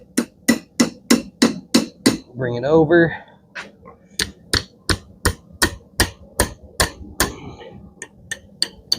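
A hammer strikes a hot steel hook on an anvil in sharp, ringing blows, steady and rapid, about two per second, with a brief pause while someone speaks a few words before the hammering resumes.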